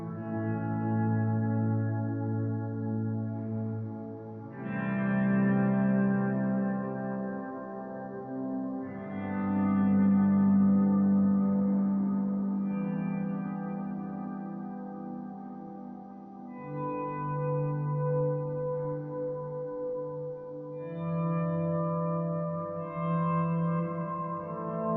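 Guitar played through a Meris Mercury X reverb set to recreate a Big Sky swell setting, fully wet into a clean Fender, with slow swelling chords that bloom and wash into long reverb tails, several overlapping phrases across a soft, ambient stretch.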